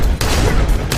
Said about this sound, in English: every time those shotguns went off, man, it was just thick, it was rich, it was detailed